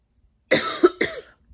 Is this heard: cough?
yes